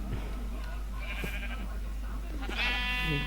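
Sheep bleat in a video game, with a couple of short calls over a steady layer of game noise and a faint voice in the background.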